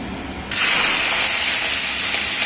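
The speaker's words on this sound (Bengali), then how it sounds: "এবার চিংড়ি মাছটা ভাজবো।" Prawns hit hot oil and set off a sudden loud, steady sizzling hiss that holds without a break after a brief quieter start, close by.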